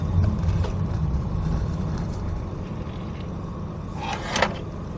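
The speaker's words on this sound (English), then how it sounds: "And going round the roundabout, power steering, very, very easy to turn." A Toyota campervan driving round a roundabout, its steady engine rumble and road noise heard from inside the cabin, with a brief brighter rattle near the end.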